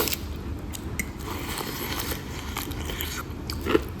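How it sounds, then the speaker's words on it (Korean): Raw food being bitten and chewed close to the mouth, seasoned with curry powder and pepper: wet crunching and squishing bites in a steady chewing rhythm, with one sharper crunch near the end, no talk. "일단 생으로 먹어볼게요."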